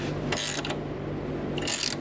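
A ratchet clicking as it turns a camber adjuster on a Miata's suspension, two short bursts of rapid metallic ticks separated by a quieter pause, close up with no speech.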